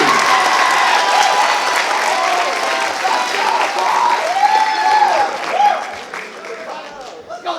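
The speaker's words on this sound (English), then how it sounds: "Let's give these department awards one more round of applause" An audience at a school awards ceremony applauds continuously in a loud, dense patter of many clapping hands, slowly thinning toward the end, with voices audible faintly underneath.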